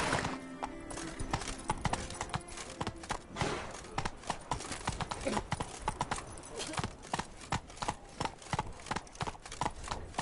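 Rapid clip-clop of the horse Roach galloping in The Witcher video game, steady hoofbeats close and loud across the whole stretch, with a brief whinny and game ambience underneath.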